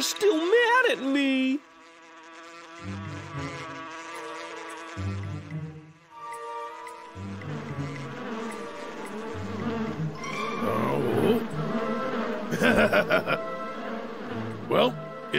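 Cartoon bees buzz in a swarm, the droning whine rising and falling under excited character voices and bright background music.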